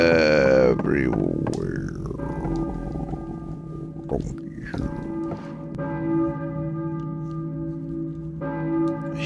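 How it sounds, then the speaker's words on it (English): A church bell rings in the video game Silent Hill with a long, resonant ringing decay, fairly loud, with a few more bell strikes blending into a continuous humming ring. "church bell, maybe. Who's ringing the bell?"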